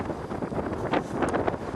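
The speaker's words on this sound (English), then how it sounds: "The wind's turned round slightly, very windy." Strong gusting wind buffeting the microphone, a continuous rough roar that swells and fades in uneven surges.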